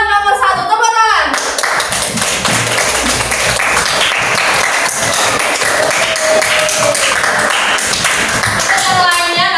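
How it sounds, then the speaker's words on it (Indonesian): Classroom group clapping hands in a school lesson after a quiz, loud continuous applause across most of the stretch, with brief voice-like sounds at the start and near the end. "kelompok 2 nomor 1, tepuk tangan."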